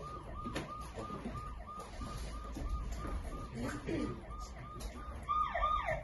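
A wailing emergency siren cycles repeatedly at a steady rhythm, fairly loud against background noise, with a rising electronic warble near the end.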